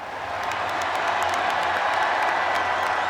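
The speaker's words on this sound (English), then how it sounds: "The Cardiac Pack, once again showered in applause" A crowd applauds the champion basketball team in a steady, dense wash of clapping and cheering that holds at an even level throughout, with no single voice standing out.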